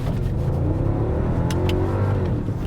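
Mercedes-Benz CLS 55 AMG V8 engine revving hard in first gear, a loud, steady, rising roar heard from inside the car that stays sustained without a break.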